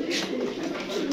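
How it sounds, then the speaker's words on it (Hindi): Pigeons coo in a soft, low, continuous burble close by, a brief rounded throaty murmur with faint background noise. "बड़े अच्छे कबूतर हैं"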